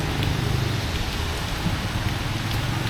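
Heavy rain pours down steadily in a downpour that is already causing flooding, a dense continuous hiss and patter with no pauses or voices.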